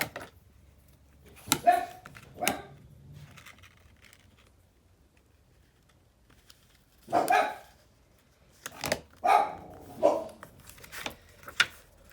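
Dogs in a house barking at something going on outside, several loud bursts of barking close by, with a few isolated barks and yips between quieter pauses.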